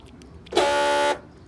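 A faulty door lock actuator on a 2009 Honda CR-V with a stripped gear, giving one steady buzzing, harmonic-rich whir of about half a second when the doors lock, close and alone.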